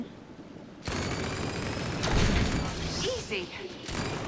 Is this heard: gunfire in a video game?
yes